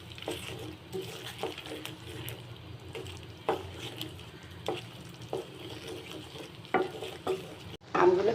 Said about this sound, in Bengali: নাড়ব।